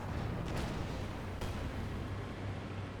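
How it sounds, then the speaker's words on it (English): A Katyusha rocket barrage in the real-time strategy game Company of Heroes 2, heard as a dense continuous rumble of launches and distant impacts with a couple of sharper bursts, no voices. "Now the Katusha barrage coming on in."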